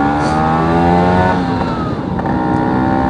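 A 200cc two-stroke Vespa P200e scooter rides along at a steady pace, its engine buzzing continuously and loudly up close, with no talk over it.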